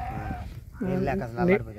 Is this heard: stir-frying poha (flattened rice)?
no